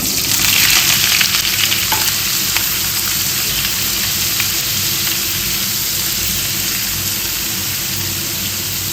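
Paneer pieces drop into a few teaspoons of hot oil and sizzle in a loud, steady crackling fry, close up and continuous, with faint stirring and no voices.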